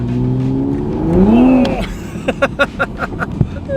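A stock-turbo Toyota Supra revs up with a rising engine whine, then lets off into a rapid series of sharp exhaust pops and crackles, loud and close, with no talking over it.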